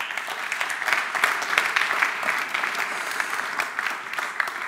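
Audience applause for a speaker at a Dutch internet-freedom talk, a dense steady patter of many hands clapping through the whole stretch with no voices over it.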